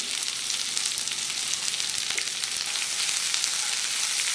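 Onion, ginger and a small piece of tamarind roasting in a hot pan for a coconut-free chutney give a steady, soft sizzle that holds evenly throughout, with no voices.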